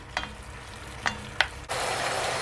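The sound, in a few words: oxtail sauteing uncovered in a pot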